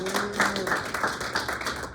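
A room at an installation meeting breaks into a round of applause, steady mid-level clapping with a few whoops, sustained for a couple of seconds.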